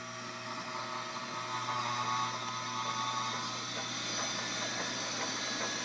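A hand-started single or three phase motor's flywheel, driven by a belt, spins up with a steady whirring mechanical hum and hiss that holds fairly constant and close throughout, with no voices.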